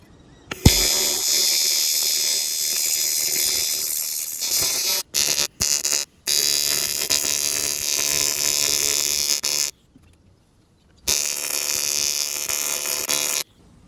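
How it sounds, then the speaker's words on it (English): TIG welding arc on an alloy threaded hole repair for a CA18DET engine, a loud steady buzzing hiss running in long bursts broken by short pauses, with no talk over it. "let's weld it up and see what I can make of this"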